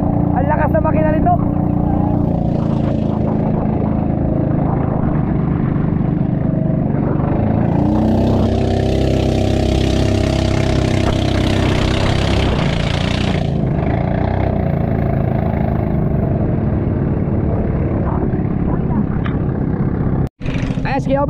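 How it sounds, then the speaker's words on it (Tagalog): Loud, steady engine drone runs throughout, a boat motor churning continuously close by with a brief surge of hiss midway. "Ang lakas na makina nito."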